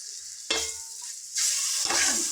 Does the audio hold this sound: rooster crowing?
no